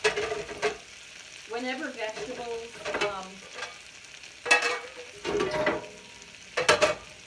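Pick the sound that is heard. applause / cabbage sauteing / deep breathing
cabbage sauteing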